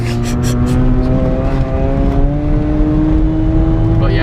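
A Honda car is driven hard on a rough dirt rally track, its engine droning loud and close with a steady, slowly rising tone the whole time.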